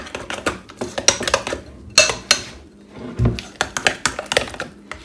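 Utensil stirring a thick cheesecake-like mixture in a bowl, irregular clinks and scrapes in quick uneven bursts, close and moderately loud, with short pauses between strokes.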